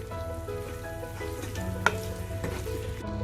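Pepper liver roast sizzles steadily in coconut oil in a pan while it is stirred. There is a soft scrape and one clear clink of the spoon against the pan, over a steady low hum.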